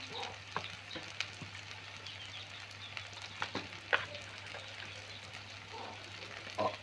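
Food frying in a pan for a fish dish, a low continuous sizzle with sparse spoon clicks and scrapes against the metal, heard up close over a steady hum.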